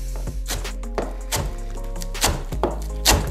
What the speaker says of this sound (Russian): Берем, разрезаем на мелкие,